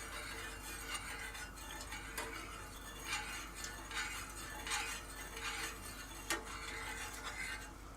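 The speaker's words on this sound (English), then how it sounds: "we'll stir that around a little bit and just get that nice and dissolved in there" A spoon stirs sugar into boba tea, giving soft scraping swirls and light irregular clinks against the container, quiet and without talk.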